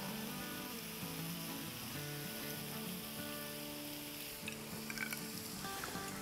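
Spiced kaleji (goat liver) frying in a pan as it is stirred, a steady dense sizzle running throughout with faint scraping and clinks toward the end, no voices.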